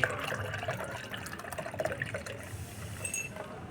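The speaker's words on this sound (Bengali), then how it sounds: "চায়ের পাতাটাকে ছেঁকে নেওয়ার পরে এখানে যে লোহা বেজনের যে জলটা আছে এটা তারপরে ছেঁকে নেব।" Tea-leaf water and iron-soaked water are strained for a homemade hibiscus fertilizer, giving a faint, continuous trickle and splash of liquid pouring, close by, with light drips and handling noise.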